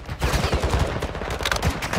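Rapid bursts of gunfire in a shooting video game, dense and loud, with shots cracking in quick succession over about two seconds.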